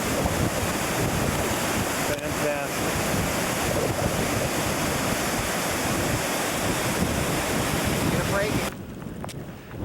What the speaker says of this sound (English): this is the river in the village Sneem